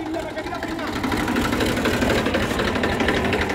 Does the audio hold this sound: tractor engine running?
yes